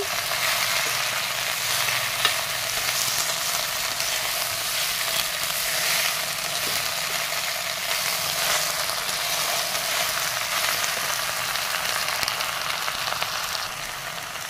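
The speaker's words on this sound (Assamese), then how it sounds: "এতিয়া পিঁয়াজ আৰু নহৰুখিনি ভাজি লৈ এই টেঙা পাতখিনি ইয়াতে দি দিছোঁ" Onion, garlic and tenga leaves fry in a pan with a steady, close hiss of sizzling oil that continues evenly throughout, with no voices.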